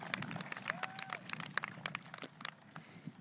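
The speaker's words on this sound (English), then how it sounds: "I'd like one more round of applause for her as she is retiring this year." Applause at a 2022 high school commencement ceremony for a retiring teacher, a steady patter of many hands clapping at moderate distance, with a brief whistle near the start and faint voices mixed in.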